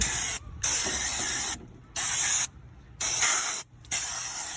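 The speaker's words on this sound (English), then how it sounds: "little wash down with brake cleaner just to get any grease and fingerprints off of the rotor and the pads" Brake cleaner sprays in four loud hissing bursts with short gaps onto the rotor and pads of a 2012 Mercedes-Benz W212 E350, close up and without talk.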